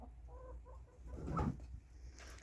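Soft clucking from a chicken, a few short low calls rising to a louder burst, heard fairly close in a quiet setting.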